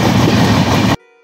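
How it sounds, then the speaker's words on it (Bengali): The Poorva Express rolls along the rails in a loud, close, continuous rumble with faint clatter, then cuts off abruptly near the end. "আমাদের ট্রেন পূর্বা এক্সপ্রেস ছেড়ে দিল দিল্লি স্টেশন থেকে।"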